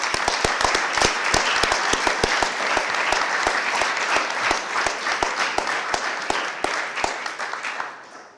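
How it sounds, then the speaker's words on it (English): Sustained, loud applause from a school awards audience honoring faculty, dense clapping with a few sharp individual claps standing out, fading slightly toward the end. "I'd love everyone to give a round of applause to our outstanding faculty."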